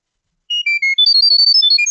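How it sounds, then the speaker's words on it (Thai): A phone sends Chirp data-over-sound to an Arduino Nano 33 BLE Sense as a loud, rapid series of high, bird-like tonal chirps, a few longer tones followed by a quick even run of short beeps. "เมื่อกี้จะได้ยินเสียงเหมือนเสียงของนกนะครับ"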